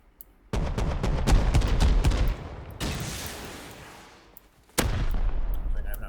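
Gunfire in the survival video game Rust: rapid bursts of loud shots in quick succession, then a lull, then another bursting volley, with no speech.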